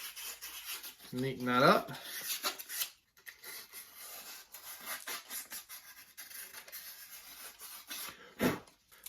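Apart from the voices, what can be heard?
sanding wood with sandpaper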